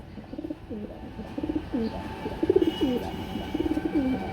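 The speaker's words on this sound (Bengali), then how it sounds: "লাল কালারের মধ্যে এক জোড়া ড্যানিশ কবুতর রয়েছে" Red Danish pigeons cooing close by, a series of soft, rolling throaty calls repeating in short bursts over a low background hum.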